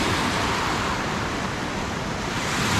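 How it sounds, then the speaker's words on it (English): Swells washing steadily along the shore of Saw Pit Bay on Lake Ontario, a loud, continuous broadband rush of water with little break in level, carrying on alone without any talk. "these swells would not be very kayak friendly"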